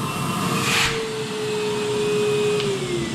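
A DeWalt wet and dry vacuum cleaner roars steadily on its turbo setting, a loud continuous whine close by with a brief knock partway through.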